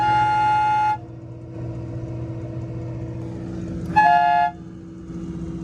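A JDM train horn fitted to a Nissan Skyline blasts twice, a long loud multi-tone toot followed by a shorter second blast, with a car engine humming steadily in between and after.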